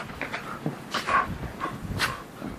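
A standard poodle playing in snow, giving short gruff growls and yelps in a few scattered bursts, fairly quiet and close, with faint outdoor background between the sounds.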